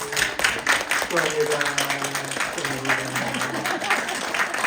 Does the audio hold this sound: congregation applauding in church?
yes